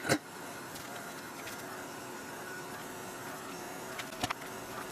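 A heat tool blows a steady, even whoosh over liquid acrylic paint on an art journal page, running continuously at low volume with a couple of faint clicks.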